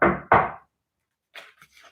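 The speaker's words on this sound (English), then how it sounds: "he was startled by a knock at the door" Two loud knocks on a door, close and sharp, followed by a short silence and then faint muffled sounds.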